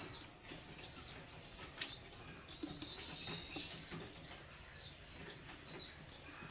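A fancy pigeon among birds kept for sale coos softly while wings flutter nearby, with thin chirps threaded through a steady low background and no speech.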